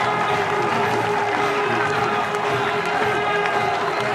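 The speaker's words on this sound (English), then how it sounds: "Cries of easy in the crowd." Cricket crowd cheering and shouting at a catch during a Bangladesh versus Australia match in 2005, a dense, sustained roar of many voices filling the stadium steadily throughout.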